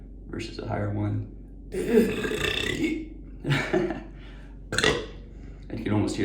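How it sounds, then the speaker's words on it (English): A man produces a higher-pitched burp on command amid short bursts of talk, the burp sounding close and fairly loud between his spoken phrases. "versus a higher one"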